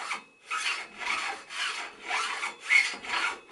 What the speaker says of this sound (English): this is the situation now in terms of how freely and smoothly the seat post is moving up and down inside the seat tube